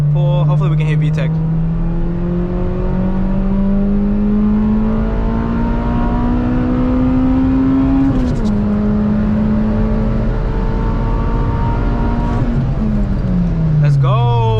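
An Acura RSX with an aftermarket exhaust accelerates hard in third gear, its engine note climbing steadily in a loud, droning rise, dipping briefly once before winding up again and falling away at the end.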